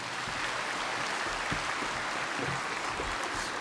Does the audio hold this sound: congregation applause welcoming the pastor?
yes